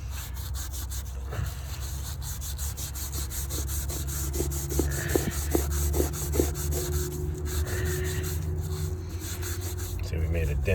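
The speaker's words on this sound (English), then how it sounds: "I'm gonna just take the moist towelette, rub it in, rub it off kind of thing" A moist towelette rubs back and forth across a door threshold during a cleanup with Bar Keepers Friend liquid, giving a series of close, rhythmic scrubbing strokes with a person speaking intermittently.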